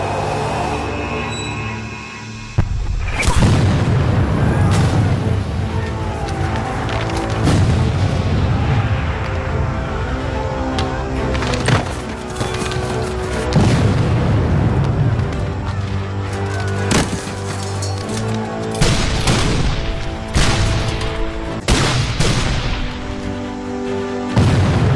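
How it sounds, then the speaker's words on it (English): Civil War artillery barrage at Gettysburg: repeated heavy booms and bursts rumble in irregular succession, some sharp and close, others rolling, layered over a continuous low battlefield roar. "Joe Davis and his men are marching into a barrage of artillery hell."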